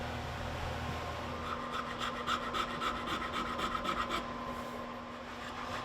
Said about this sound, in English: now I need to go and actually start hand filing to refine some of these curves